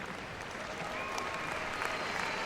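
Arena crowd at Crufts 2013 applauds a freestyle heelwork to music routine as the dog and handler leave, a steady, distant wash of many hands clapping throughout, with faint whistles and cheers.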